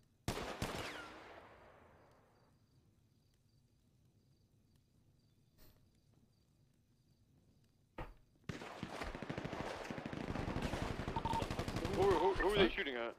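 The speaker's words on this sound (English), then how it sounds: "Are they shooting at each other because they realize they can't shoot on the dough?" Video game shootout with a single sharp shot fading into quiet, then a sudden burst of rapid, sustained automatic gunfire nearby, with a voice briefly speaking over the shooting.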